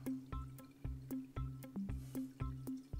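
A Catit cat water fountain drips and trickles in a steady, close rhythm of small plinking drops, quiet and alone in the room.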